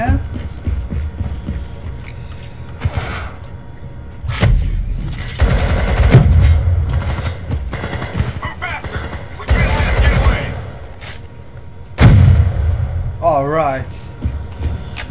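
Gunfire in Call of Duty Black Ops 3, with loud bursts of automatic fire and single shots coming in clusters throughout, mixed with game effects, while a person talks over part of the action.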